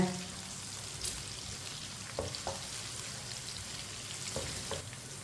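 Green chillies frying in a pan for bhindi fry, a steady soft sizzle with a few faint clicks and light stirring sounds, fairly quiet and continuous with no one speaking.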